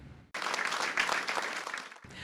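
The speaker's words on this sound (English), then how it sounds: "The doctors and staff from Gemelli applauding the Pope as he was wheeled into his brief meeting with them" Doctors and staff at Gemelli hospital applaud Pope Francis as he is wheeled in, a steady burst of group clapping that starts abruptly, holds for about two seconds and briefly breaks off near the end.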